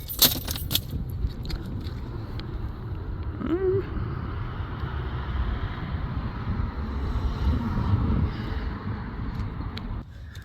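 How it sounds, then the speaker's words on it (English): Keys jangle as they are taken out, with bright metallic clinks at the start and again at the very end over continuous wind and road-like background rumble. "Take my keys out."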